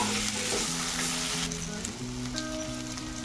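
Raw banana pieces fry over medium flame and are mixed in a pan, producing a dense, continuous loud sizzle with steady crackling and no voices.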